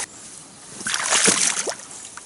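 A single loud splash in flooded water near a river, with a sloshing burst that swells and fades over about a second, close to the microphone.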